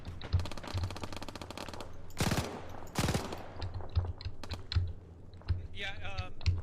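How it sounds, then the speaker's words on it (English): Rapid machine-gun fire with red tracers in a military video game, heard as dense mechanical bursts and a few louder blasts amid clicking, with no talk. "our machine gunner is shooting at him with a red tracer at this time"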